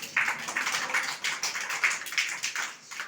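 A group of young children claps hands together in a rhythmic, steady patter, light and fairly near, repeated sharp slaps continuing through the moment without talk.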